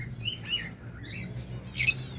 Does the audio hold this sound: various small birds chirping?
yes